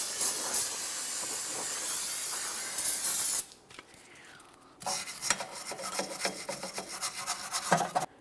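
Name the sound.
cleaning brake backing plate of Mitsubishi Lancer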